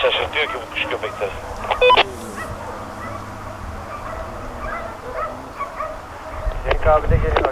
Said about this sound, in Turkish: Bu köpekler şaşırtıyor ki bu kuş köpekleri.